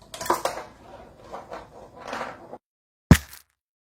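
A marble skittering over a homemade coaster-and-box snare drum filled with basmati rice makes a run of rattling, clattery taps. After a brief silence comes one sharp, close hit.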